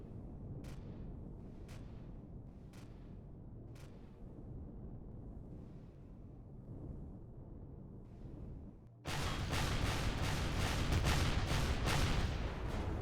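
Barrage pods fire in Empyrion: a quick series of sharp bursts roughly one per second over a low rumble, then a loud, dense roaring blast that starts suddenly and holds to the end.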